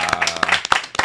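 Brief burst of close, crisp hand clapping at a baseball award ceremony, lasting about a second with a faint voice underneath.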